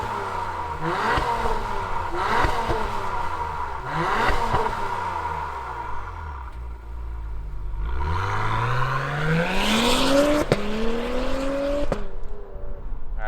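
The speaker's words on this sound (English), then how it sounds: "let's fire up this Type S and hear what that active exhaust sounds like" A 2022 Apex Blue Acura TLX Type S with active exhaust gives several short throttle blips, then a rising rev that climbs and falls back, close and fairly loud, with no one talking.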